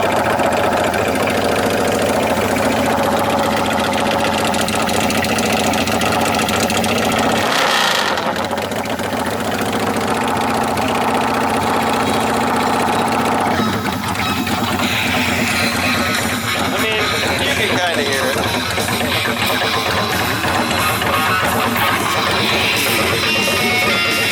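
A 2000 Yamaha XVS1100 motorcycle engine idles loudly and steadily with a continuous throbbing rumble, briefly dipping in the middle before carrying on.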